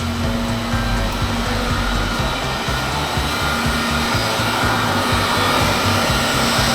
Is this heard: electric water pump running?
yes